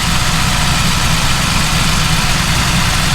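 A Cummins-equipped C5/C6 Corvette idles steadily with its new extreme-duty belt tensioner and belt running, a close, constant low rumble with engine vibration and no voices throughout.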